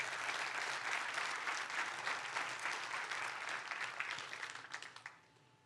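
Congregation at a church service applauding God, a dense burst of clapping that holds steady for several seconds and then tapers off quickly to quiet.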